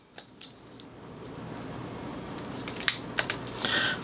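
Scissors trimming the edges of card scraps for mini note cards make a few short, quiet snips and rustles over a faint background hiss.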